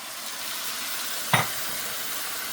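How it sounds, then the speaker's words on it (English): A spoon stirs a pan of vegetables, salt, pepper, smoked paprika, parsley and beef broth, giving one brief clink against a steady soft sizzling hiss. "Give this a mix. Get everybody combined."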